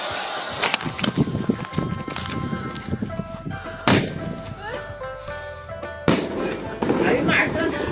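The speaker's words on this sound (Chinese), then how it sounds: "这个惊天雷锤挺响的" Firecrackers and loud thunder-bomb fireworks burst outdoors in a rural village, sharp cracks at irregular intervals with two especially loud near blasts, people calling out and talking between them.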